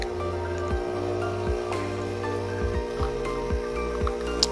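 A 15-bar WIRSH espresso machine pumps and extracts espresso from a loosely tamped filter, a steady humming buzz with rhythmic pulsing and faint liquid dribbling, close and continuous without talking.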